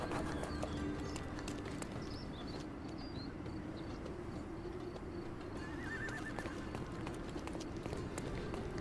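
Horse hooves clip-clop in a steady trotting rhythm on a street in a Sherlock Holmes video game, close and continuous, with a low rumbling background and faint bird chirps.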